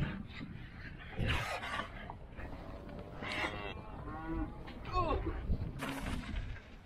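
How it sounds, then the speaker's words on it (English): Several cattle moo and low nearby, long drawn-out calls overlapping one another, with a rough outdoor background. "Time to wrangle up some cattle."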